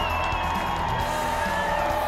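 A school crowd cheers and claps steadily throughout, a dense, continuous wash of applause and shouts at full loudness with no pauses.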